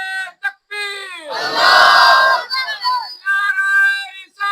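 A crowd at a Muharram majlis gathering in Kahuta shouts back a loud massed response to a Takbir slogan, a burst of many voices in the middle, with a single speaking voice before and after.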